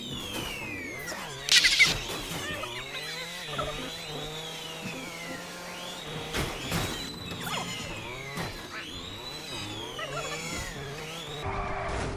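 Car race chase in the video game GTA 5, with screeching tire skids, revving engines and swerving slides sweeping up and down, plus a loud burst near the start, continuous and close with no talking.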